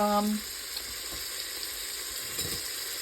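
Meat browns for chili in a pan over slightly above medium heat, giving a soft, steady sizzle and crackle that carries on quietly throughout.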